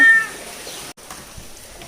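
A cat's short, loud meow close by, followed by quiet household room noise.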